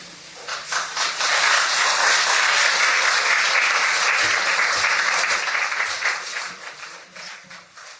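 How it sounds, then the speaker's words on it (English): An audience at a live event gives performers a big round of applause that swells quickly, holds loud and dense for several seconds, then tapers off toward the end. "Big round of applause again"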